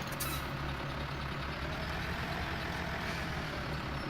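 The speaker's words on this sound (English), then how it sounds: "So let's get into our tractor." A New Holland tractor engine in Farming Simulator 2017 holds a steady, low idling drone, an even mechanical rumble that runs unchanged throughout with no talk over it.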